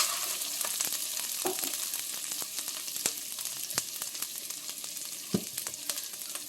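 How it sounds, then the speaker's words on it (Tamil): Ginger garlic paste frying in a pan with a steady, close hiss and crackle, interrupted by a few sharp clicks and pops, with no voices. "அதனால் இஞ்சி பூண்டு விழுது கொஞ்சம் போட்டுக்கிறேன்."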